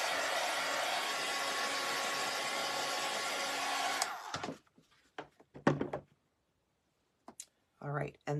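A hair dryer blows steadily and loudly on a clay angel's spindle standing upright in a holder, then cuts off after about four seconds, followed by a few scattered clicks and knocks.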